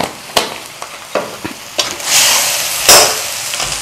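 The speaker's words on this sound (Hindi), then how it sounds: "कीमे के साथ टमाटरों को मिक्स करते हैं" Minced meat keema with tomatoes is stirred in a pan, a spoon scraping and knocking in irregular strokes over a steady sizzle that swells louder toward the end, close and without talk.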